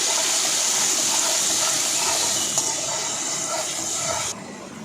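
Chopped tomatoes and a pinch of garam masala fry in a pan for poha, giving a steady, fairly loud hiss that runs without a break and drops a little near the end, with no talking.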